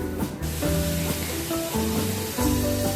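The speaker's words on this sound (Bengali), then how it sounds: "ভালো করে কষিয়ে নিচ্ছি আমি মশলাটা" Spice masala of coriander and cumin powder fries with onion and garlic in a pan for a banana stem curry. A continuous close sizzle and hiss runs throughout, with a faint hum beneath and no talking.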